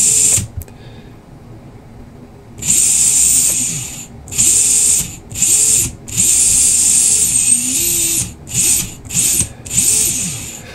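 A Furitek Stinger RC car motor with a Micro Komodo and Lizard Pro setup whines up in short high-pitched bursts, about seven throttle pulls that each stop abruptly when released, loud and close with no voices.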